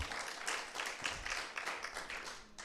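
Audience applause at a Sunday gathering, many hands clapping in a dense, steady wash that lasts throughout with no speech over it.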